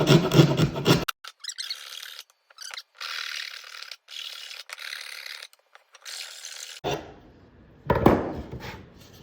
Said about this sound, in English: we're just going to take the rasp, go in here and try to clean it up a little bit